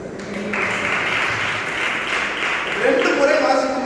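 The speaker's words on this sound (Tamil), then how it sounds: "கைத்தட்டுங்க." A church congregation claps together in steady, dense applause with voices mixed in, the sound swelling slightly toward the end.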